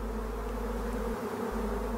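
A honeybee swarm clustering over its queen gives off a steady, dense buzzing hum that holds evenly throughout at a moderate level.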